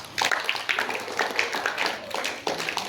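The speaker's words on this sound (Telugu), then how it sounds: "సో మీకు ఒకసారి క్లాప్స్ కొట్టుకోండి." Students at a high school farewell day clapping together, with uneven, moderately loud applause over a few seconds and some background murmur.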